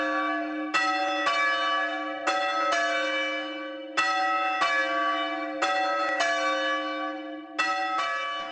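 A swinging church bell rings in repeated, evenly spaced strikes with long ringing tails, loud and close, as in change ringing, with no voices.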